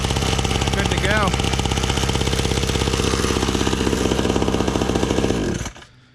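A 50cc kids dirt bike's small engine running steadily with a fast, buzzing putter, close and loud, a brief rising tone near the start, before cutting off near the end.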